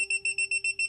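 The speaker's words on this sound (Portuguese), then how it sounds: "E bipa bem rápido." Rapid, evenly spaced electronic beeps from a Minipa SM-3305 clamp meter, about seven sharp, piercing tones in under a second, close and loud.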